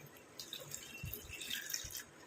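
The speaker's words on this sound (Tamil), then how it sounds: "இப்போ இதில் வந்து 1 டம்ளர் அளவுக்கு நம்ம தண்ணி சேர்த்துக்கலாம்." Water splashes and trickles into a pot in short bursts, with small drips and a quiet background.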